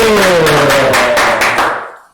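A podcast audience claps for a guest with a run of about six sharp, loud claps over a fading tonal ring, then cuts to silence.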